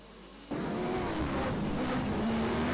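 Sprint race cars powered by high-powered motorcycle engines roar at Archerfield Speedway, a loud sustained engine drone surging in abruptly after a quiet start and holding steady, with faint pitch sweeps as cars circle the track.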